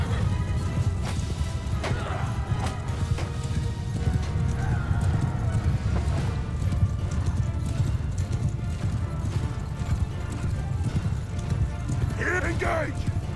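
A horse gallops across a Mount & Blade II: Bannerlord battlefield, its hooves a steady rapid drumming buried in dense battle noise, with a brief whinny-like cry near the end.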